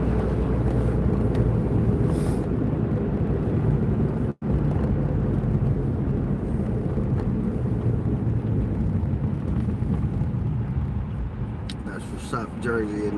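A heavy, continuous low rumble of a passing elevated 6 subway train fills the clip, with voices talking underneath and a brief dropout partway through.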